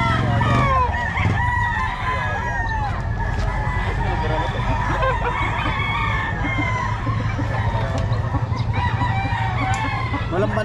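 Chickens cluck continuously nearby while roosters crow repeatedly, with a person talking in the background.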